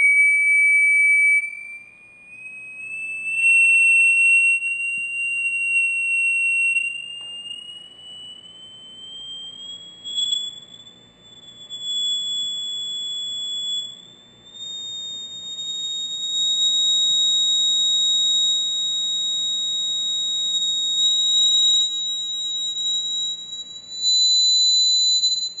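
A steady electronic tone glides slowly and continuously upward in pitch for about 25 seconds, joined by a fainter higher tone drifting gently downward, both sustained and loud over a quiet background.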